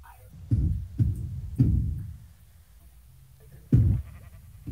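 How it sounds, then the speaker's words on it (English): Sheep in a video game bleat in short separate calls, four or five loud nearby bleats spaced across a quiet background. "because these sheep are very, very important"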